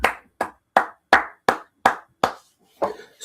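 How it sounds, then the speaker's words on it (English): Hands clap in a slow, even rhythm, about eight sharp, close claps with short gaps between them, then a final looser clap. "Clap it up."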